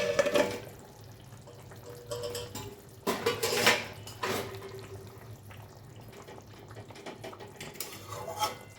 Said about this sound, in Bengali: কিছুক্ষণ ঢাকা দিয়ে রেখেছিলাম, এবার ঢাকাটা তুলে দেব